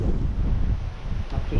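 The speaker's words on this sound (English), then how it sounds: "That's just wind." Wind buffets a microphone on the Cumbrian coast during a fishing outing, a loud, close, continuous low rumble.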